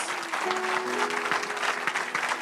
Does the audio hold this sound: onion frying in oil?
no